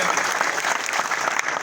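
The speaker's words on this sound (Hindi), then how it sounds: "इसमें आप सब लोग तालियां दें।" Crowd clapping at a Pakistan Peoples Party political gathering, a brief, fairly soft burst of steady applause with a hint of voices mixed in.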